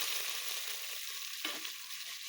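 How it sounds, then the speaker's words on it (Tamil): Mustard seeds, urad dal and fenugreek frying in hot oil in a pan, a steady close sizzle with a brief louder crackle midway. "சட்டியில் எண்ணெய் ஊற்றிட்டு அதில் கடுகு உளுந்து போட்டுட்டு வெந்தயம் போட்டுட்டு இப்போ நல்லா பொரியட்டும்."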